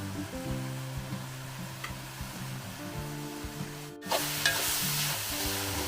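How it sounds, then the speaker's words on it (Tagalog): Banana heart cooking with sand shrimp in a pan, stirred with repeated scraping strokes over a steady sizzle, close and clear, the frying growing brighter and louder after a brief pause. "Halo-haluin lang po natin at madali naman pong maluto itong puso ng saging para hindi dumikit yung ilalim."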